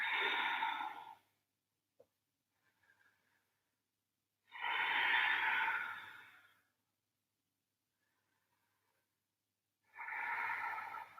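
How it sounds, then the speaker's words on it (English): Deep Ujjayi breathing during a yoga flow with pranayama: three long, slow, audible breaths through a constricted throat, close and steady, separated by quiet pauses. "Nice deep Ujjayi breathing."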